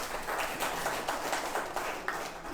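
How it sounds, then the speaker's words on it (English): An audience claps in broad, even applause at an indoor Madhuvan Vatika session, a dense continuous patter that holds steady without voices on top. "Big round of applause for our Kashmir."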